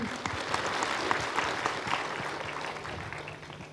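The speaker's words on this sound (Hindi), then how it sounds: "तो फिर तो जोरदार तालियां बनती हैं।" Hall audience at a memorial gathering applauding steadily in a dense, even wash of many hands, moderately distant and without talk.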